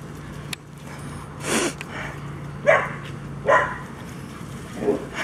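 A group of big and small dogs, a German Shepherd among them, barks in several separate short bursts at moderate distance, with sniffing and quiet pauses between the barks.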